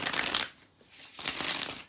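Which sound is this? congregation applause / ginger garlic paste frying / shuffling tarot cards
shuffling tarot cards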